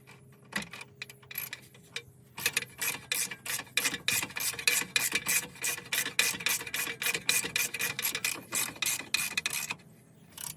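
Close ratchet tightening a track rod bolt on a BMW E46, with a few scattered clicks, then long rapid runs of sharp pawl clicks in quick rhythmic bursts and a short pause, ending abruptly; nobody speaks.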